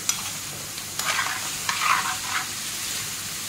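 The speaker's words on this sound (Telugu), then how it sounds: "కొద్దిగా ఉప్పు, దీన్ని బాగా కలుపుకోవాలి." Boneless chicken stirred with salt and turmeric in a pan, with a soft continuous sizzle and brief scraping strokes of a spoon, steady and close.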